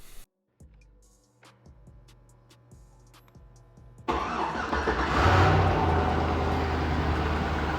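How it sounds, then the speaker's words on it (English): A car's starter relay, jumped straight to battery power, cranks the engine in several rhythmic pulses until it catches. The engine then roars to life loudly and close before it settles into a steady running sound. "we tied into the starter relay right here and then just tapped it to battery power with our key on, and we got it to start"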